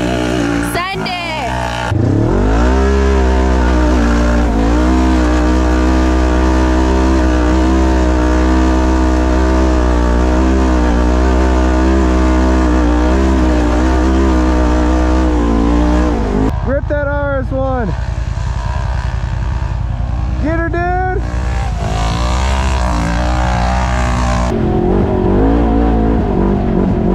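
A Polaris RZR RS1 naturally aspirated side-by-side roars loudly as it races up a snowy ski hill, engine droning high and steady before easing off and revving again, with faint voices underneath.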